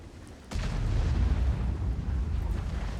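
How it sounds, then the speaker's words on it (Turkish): A tank gun firing in World of Tanks, an E50 shot: one sudden booming blast followed by a sustained low rumbling roar, loud and with no talking. "Buradan E50 bir atış yaptı ona."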